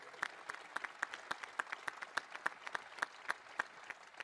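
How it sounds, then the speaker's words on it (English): A university press conference audience gives a round of applause to a new men's basketball coach's family, with quiet, fairly sparse clapping from a modest crowd and sharp, evenly spaced claps standing out through the soft wash. "Give them a round of applause for being here today."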